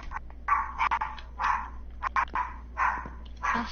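A dog barks repeatedly at close range, a quick run of sharp barks with short gaps and a few yips, and no voices.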